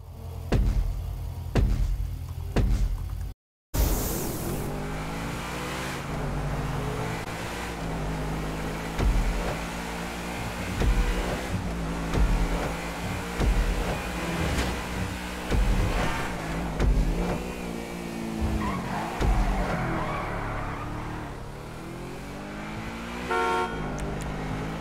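A car engine in the GTA 5 game revs and accelerates through a race, a continuous engine drone that rises and falls with gear changes, with a brief cut near the start and horn-like toots over it.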